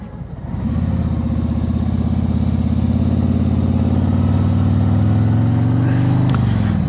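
A motor trike engine and its exhaust pipes drone steadily while riding on a road near McCormick, South Carolina, a low muted hum that rises as it gets going and holds constant, with wind noise throughout.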